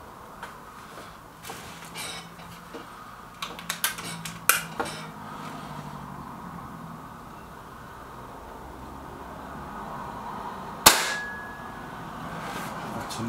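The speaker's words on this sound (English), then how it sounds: "Another cracking shot from the MP500" An MP500 air rifle pellet strikes a target with a single sharp, ringing metallic clang. Softer clicks and handling noises come before it, over a quiet room background with no talking.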